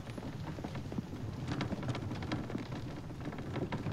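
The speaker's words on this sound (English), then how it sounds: "I love the sound of the rain and the thunder in this game." Steady rain pours with a low rumble of thunder beneath it in the survival game The Infected, a dense, continuous wash of drops heard alone.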